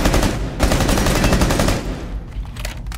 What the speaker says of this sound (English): Shoot through the wall, it's not reinforced